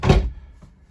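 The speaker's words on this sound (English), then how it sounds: "There's a latch here on these shower doors" The shower door in a Flagstaff Superlite RV is shut and latched: one close, loud, hollow thunk, followed moments later by a faint, small click, with no talking.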